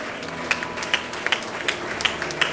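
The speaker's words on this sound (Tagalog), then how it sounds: "Bigay po natin ang pinakamalakas na palakpak sa ating Panginoon." Congregation at a Filipino church service applauding in praise to the Lord, a dense wash of clapping from many hands with sharper individual claps popping out near the front, steady throughout.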